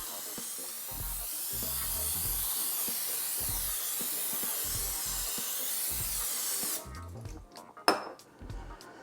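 Olive oil hisses steadily from a sprayer onto food for a Weber Summit Kamado grill, a continuous spray with soft clinks, then it stops and a few utensil taps and a short burst follow.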